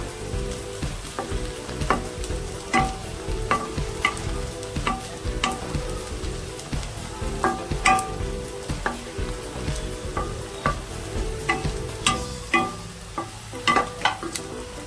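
Onions and whole white sesame seeds frying in a pan, a steady crackling sizzle with repeated sharp stirring scrapes and clicks throughout, fairly close, with no talk.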